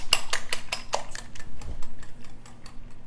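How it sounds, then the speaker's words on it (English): Eggs beaten with a whisk in a bowl make a steady run of quick, light metallic clicks, about several per second and close up, gradually softening toward the end. "I'm just kind of whisking these, beating these before we add it to our mixture"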